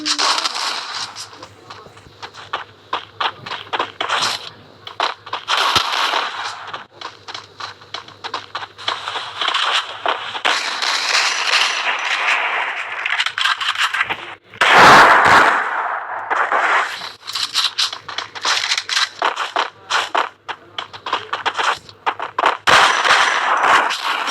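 Rapid pistol gunfire from a Desert Eagle in the mobile shooter game Free Fire, with dense bursts of shots and impacts running almost continuously and a loud blast midway, mixed with game effects while someone talks.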